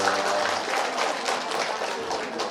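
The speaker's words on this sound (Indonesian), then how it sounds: "Barakallahu, tepuk tangan." A gathering at an Islamic study outing claps together, a dense, steady burst of applause from a group that holds evenly throughout.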